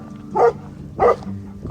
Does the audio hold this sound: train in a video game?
no